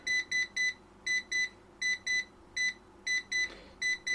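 A Zoyi ZT-1000R insulation and continuity tester beeps in a steady pattern of short, pulsed double tones, clear and close against a faint background hum.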